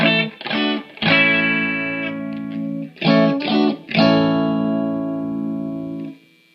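An electric guitar plays through a Vox Pathfinder 15R amp set for fuzzy distortion: short choppy chord stabs, then longer sustained chords ringing out and fading.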